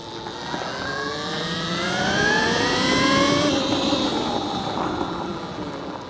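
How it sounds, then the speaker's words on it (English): A Segway Xaber 300, which the rider calls a motorcycle, rises steadily to a drawn-out whine and then eases off, loud and close, heard alone. "I could probably rev it up a little bit and then hit it,"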